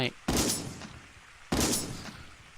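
Gunfire in the video game Dead Bits: two loud, booming shots about a second apart, each trailing off into a decaying rumble.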